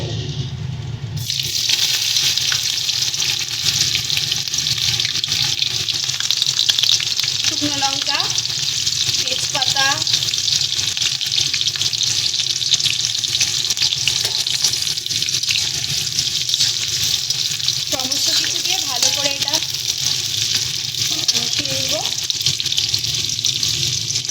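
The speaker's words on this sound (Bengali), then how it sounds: "তেলটা গরম হয়ে গেলে প্রথমে আমরা পেঁয়াজটা দেব" Chopped onion goes into hot oil and sets off a loud, steady frying roar that lasts throughout, close up, with faint voices and scattered kitchen noises underneath.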